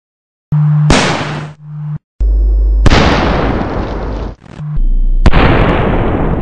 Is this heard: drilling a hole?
no